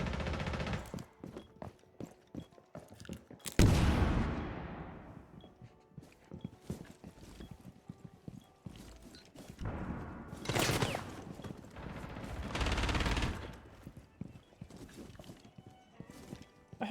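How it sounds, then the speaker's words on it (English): Gunfire in the video game Rainbow Six, a few loud close bursts and single shots over a background of clattering, tapping game sounds, with scattered quieter impacts between them and no talk. "The hell is shooting at me?"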